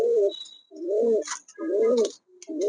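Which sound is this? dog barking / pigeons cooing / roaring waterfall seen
pigeons cooing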